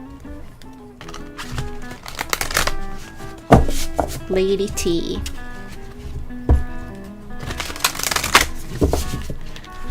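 A pretty tarot card deck is shuffled by hand in quick riffling and tapping bursts, close and crisp, while someone talks over and between the shuffles with soft music underneath.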